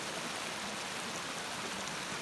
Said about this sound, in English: we've had a lot of rain, so this water's running pretty good. And you can hear it too,